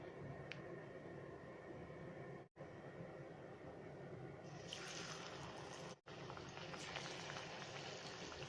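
Mango pieces dipped in batter fry in hot oil in a pan, a steady dense bubbling sizzle that holds evenly throughout and grows brighter and busier partway through, with two brief cuts to silence.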